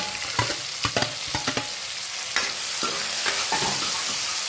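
Chopped onion sizzles in hot oil with cumin seeds and a pinch of asafoetida, a constant close frying hiss broken by sharp clicks and scrapes of a spoon stirring the pan.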